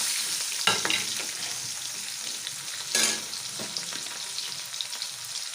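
Fenugreek seeds and panch phoron crackle and sizzle in a hot wok, a close continuous frying hiss broken by a few sharper pops and stirring scrapes.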